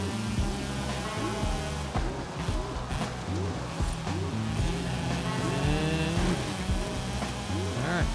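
Race car sliding through turns on a wet track in Forza Horizon 5, engine notes rising and falling steadily with tire and road noise, busy continuous game audio.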